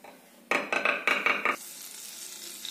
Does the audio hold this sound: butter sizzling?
yes